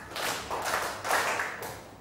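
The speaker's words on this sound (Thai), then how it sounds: "กลุ่มที่หนึ่งปรบมือสามครั้ง" A group of students claps in unison in a classroom recreation activity, three broad bursts of hand claps spaced evenly about half a second apart, fairly close and lively, with no talking.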